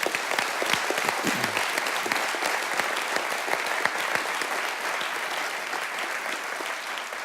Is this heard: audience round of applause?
yes